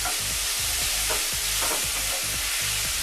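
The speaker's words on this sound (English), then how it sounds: "we're going to add half a yellow onion. Let this stir for a minute" Half a yellow onion fries with warm bacon for spicy vodka pasta, a loud, steady sizzle with repeated scraping strokes of a stirring utensil.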